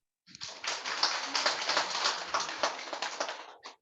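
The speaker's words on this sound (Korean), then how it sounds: "여러분 박수 주세요." An audience claps for a newly promoted member walking onto the stage at a Korean company promotion ceremony. The applause is brief and fairly quiet, a steady patter of many hands that rises quickly, holds for about three seconds and then tapers off.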